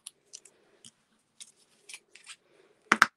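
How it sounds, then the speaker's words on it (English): Scissors snipping cardstock while making a handmade birthday card: a series of small, close, crisp cuts spaced across the clip, ending in two louder snips. "let me just snip this part off here"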